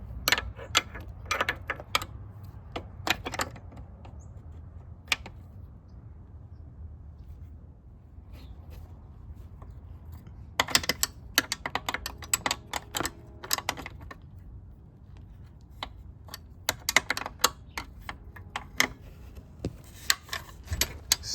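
Close, sharp ratcheting clicks come in irregular bursts as a wrench turns a bolt on a Yamaha XT250 motorcycle, quiet between the bursts and faint overall.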